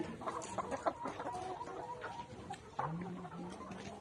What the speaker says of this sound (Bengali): তো লেয়ার মুরগি